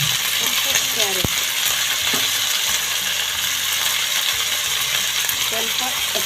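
Potatoes, beans and carrot fry in a pan with a steady hiss, broken by scraping and clinking as they are stirred, close and fairly loud.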